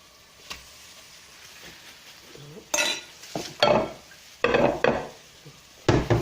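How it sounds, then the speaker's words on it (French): Cooked rice being mixed into a chicken stuffing, heard as several short, distinct bursts of scraping and clinking that start and stop unevenly against a quiet background. "Je mélange bien le riz."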